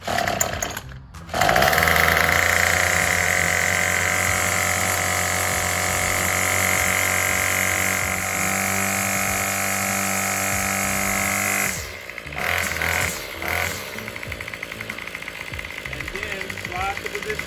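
A 25cc Craftsman yard trimmer's small two-stroke engine runs loud and close with a steady high buzz, then cuts to an uneven idle and sputter, while a person talks over it.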